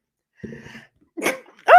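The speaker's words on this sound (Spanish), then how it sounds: "Mira, llegué a estornudar." A single sharp human sneeze bursting out at the end, preceded by short breathy and voiced sounds, close and loud with no other noise around it.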